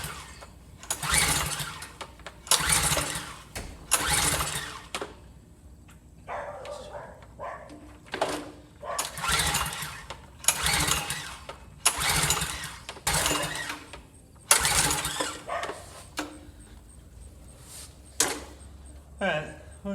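Repeated pull-starts on a Karcher pressure washer engine at full choke, the spark plug loose and holding no compression: a series of sharp rhythmic bursts, each sputtering without catching, close and loud, with someone talking between pulls.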